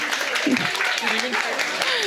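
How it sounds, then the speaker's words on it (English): Audience applause at a book launch event, steady clapping from the crowd with a voice talking over it. "A louder applause, please."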